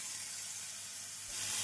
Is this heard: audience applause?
no